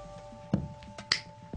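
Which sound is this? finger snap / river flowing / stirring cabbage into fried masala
finger snap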